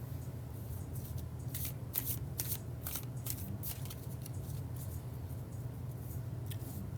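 Tarot cards shuffled lengthwise over and over, producing quick papery riffles and slides in short bursts against a low steady background hum.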